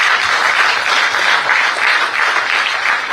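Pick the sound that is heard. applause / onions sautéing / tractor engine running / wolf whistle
applause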